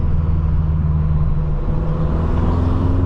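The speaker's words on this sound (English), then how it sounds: "a whole bunch of M cars, all modified, making a whole bunch of noise" A pack of modified BMW M cars drives through a small Virginia town at 3 a.m., their engines a steady, loud, close rumble with a slight swell of acceleration toward the end and no talking.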